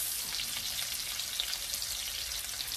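Steady, loud sizzling of a pork chop frying in a hot pan, a continuous crackling hiss with no voices.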